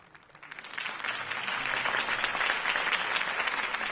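A crowd applauds at a Harvey Dent campaign rally in the video game Batman: The Telltale Series, the clapping swelling quickly and holding as a dense, sustained roar of many hands.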